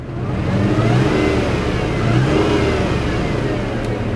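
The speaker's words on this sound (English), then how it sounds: "And it's got a little supercharger." Engine of a supercharged 60k-mile Mazda Millenia S sedan runs loud and close, a steady mid-pitched drone with a faint whirring edge that swells gently and eases back, with no voices.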